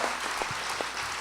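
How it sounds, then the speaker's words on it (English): Brief audience applause at a celebration for Evan Strong, a soft wash of clapping from a crowd with a few distinct louder claps standing out. "let's give a hand of applause for this guy."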